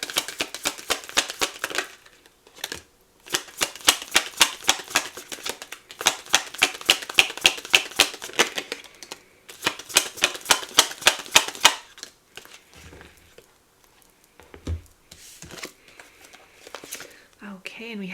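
Oracle message cards are shuffled in quick, crisp riffling bursts that repeat several times, each fluttering run close and clear, with softer handling and card placement toward the end.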